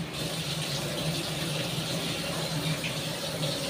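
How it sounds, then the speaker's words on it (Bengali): Garlic cloves rinsed under a running kitchen tap, giving a steady, even rush of water that fills the whole stretch without pause and with no voices. "এবার আমি রসুনটাকে ভালো করে ধুয়ে নেব।"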